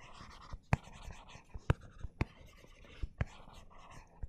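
Pen or marker sketching a graph by hand during an electronics lecture on feed-forward compensation, heard as soft scratchy strokes with sharp taps at irregular intervals, close and quiet, with no speech.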